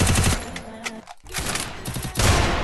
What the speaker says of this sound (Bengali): সোনালি ইউএমপি দিয়ে শট দিচ্ছে আর প্লেয়ার মরে যাচ্ছে